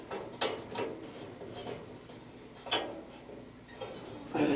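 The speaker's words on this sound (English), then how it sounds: "I'm going to put the other wrench down here on the little brass piece." Wrench clicks while a brass fitting is tightened on a ventless gas heater, a few sharp metallic ticks and ratcheting taps spaced irregularly, close and fairly loud with no talking.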